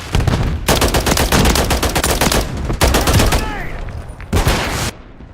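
A video-game firefight in which dense rapid machine-gun bursts fill most of the span, broken by short gaps, and a heavy grenade blast lands near the end. Loud and close throughout, with a game voice barking briefly beneath.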